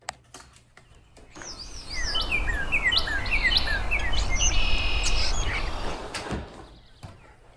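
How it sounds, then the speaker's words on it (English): A spring dawn chorus in New England, with many migrant songbirds calling and trilling at once around 6 a.m., building from near silence into a full, layered wash of chirps and whistles before thinning out, a few voices close by. "The dawn chorus of an influx of birds who have spent all winter in places far warmer than New England."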